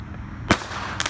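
A stub nose artillery shell firework launches with a single sharp, loud thump, followed after about half a second by a burst of crackling bangs, heard outdoors at a small pre-Fourth of July backyard fireworks display.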